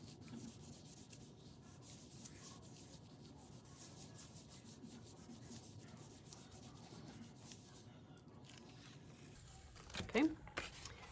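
Paper is rubbed by hand across a Gelli plate carrying a hot glue texture plate: a soft, steady, continuous scrubbing that stays faint throughout and ends with a brief louder bump.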